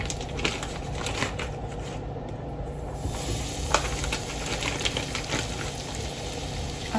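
About six or seven flour-coated chicken pieces frying in a medium-sized home deep fryer, giving a steady, close sizzling hiss with dense crackling pops throughout.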